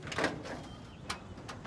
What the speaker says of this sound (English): Opening the door, seeing what's inside here